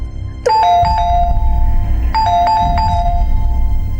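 An electronic doorbell chimes in a home, playing a two-tone ding-dong pattern twice in quick succession, loud and close over a low background hum.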